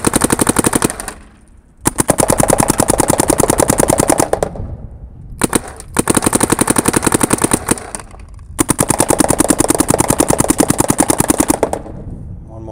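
Rapid bursts of paintball marker fire, loud and close, in three long strings separated by short pauses, with a fourth burst starting at the end.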